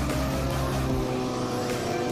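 Vehicles and heavy racing bikes coming up from behind on a Karachi race track, a continuous loud engine roar with a rumbling low drone and no break, close by.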